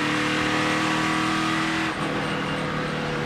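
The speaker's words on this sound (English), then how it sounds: "So this is from Leilani Munters on board" Onboard sound from an ARCA Racing Series race car at Pocono Raceway during a 2018 race, a steady loud engine drone held at high revs, with a brief dip near the two-second mark.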